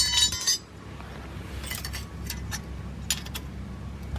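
Metal brake caliper slides clink and tick sharply as they are fitted during brake work on a Dodge Ram 3500 third-generation Cummins truck, with a cluster of clinks at the start and scattered light taps afterward, close by and without speech.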